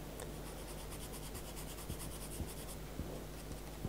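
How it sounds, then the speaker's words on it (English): A pastel pencil shades a dog portrait on paper, a quiet, continuous scratchy rubbing broken by soft rhythmic strokes, close and alone. "we can go with a darker pencil down this side here"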